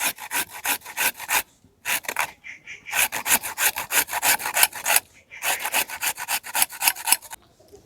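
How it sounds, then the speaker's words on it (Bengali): Two carrots being grated for a filling, giving loud, rhythmic rasping strokes in quick bursts with brief pauses between runs, close and alone with no talking. "গাজর দুটো গ্রেট করে নিচ্ছি"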